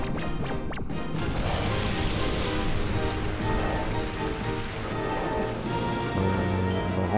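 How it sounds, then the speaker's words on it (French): Rain weather in the Pokémon Colosseum video game, a steady dense patter of rainfall filling the whole stretch, with a few sharper splashy hits near the start. "ça rend pas grand chose sous la pluie"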